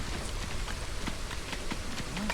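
Steady rain in the Against the Storm colony-building video game forms a soft, even patter with scattered light drop ticks that hold through the whole stretch, faint and with no voices over it.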